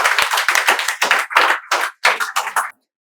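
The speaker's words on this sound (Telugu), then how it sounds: "మీకు చప్పట్లతో మేము స్వాగతం తెలియజేస్తున్నాం." An audience in a spoken English institute classroom claps in welcome, with a dense run of applause that stays steady for nearly three seconds before stopping abruptly.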